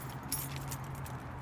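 Car keys jangle briefly and faintly while being pulled out beside a 2014 Kia Sorento SX AWD, a light metallic clinking over a low steady hum.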